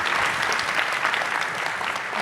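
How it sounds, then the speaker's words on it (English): Steady audience applause for a panel at a venture-capital event fills a hall for a couple of seconds, dense and even, with no voice above it. "Give them a round of applause."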